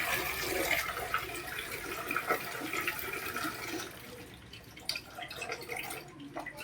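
Water is tipped out of a basin in a continuous gushing splash that thins into scattered drips and trickles toward the end.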